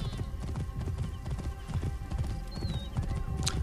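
Horse hooves clip-clop in a quick galloping rhythm in the video game Assassin's Creed Origins, close and steady over a few seconds, with a brief whinny near the end.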